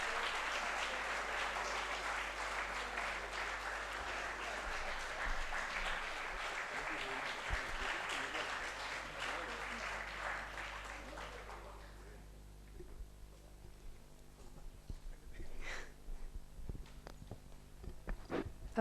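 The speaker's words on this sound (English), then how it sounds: "Please give him a huge round of applause." An audience at a student investment course finale applauds steadily for about twelve seconds, a dense sustained clapping that then stops, leaving a quieter room with scattered small noises.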